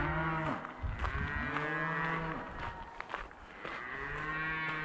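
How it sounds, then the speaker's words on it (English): A large herd of about 200 cattle around a campsite, many loud overlapping moos and bellows close by and farther off, continuous and layered throughout. "I think there's got to be 200 head of cattle out here."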